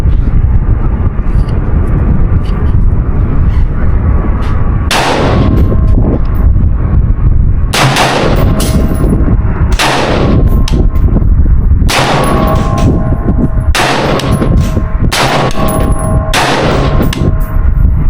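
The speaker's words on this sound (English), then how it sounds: "So let's go ahead and shoot this group and see where we're at." Poor Man's MK18 rifle fired at a shooting range, about eight loud sharp shots spaced a second or two apart, close and booming over a steady roar of wind or background noise.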